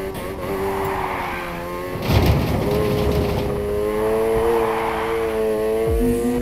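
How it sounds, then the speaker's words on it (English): A car in Need for Speed Heat drifts through a corner, its engine droning steadily as the tires squeal in long sustained screeches, with a harder burst of tire noise partway through and no talking. "Drifting."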